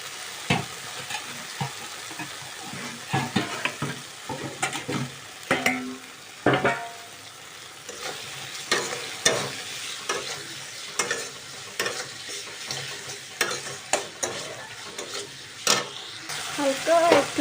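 Chopped potato strips stir-fried in a pan for a new-style cabbage dish, with steady sizzling broken by repeated scraping stirs of a spatula, close and moderately loud, no talking.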